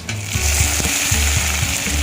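Potatoes go into onions already frying in oil and set off a loud, close, steady sizzle, with a few clanking stirs of the pan that thump rhythmically under the crackle.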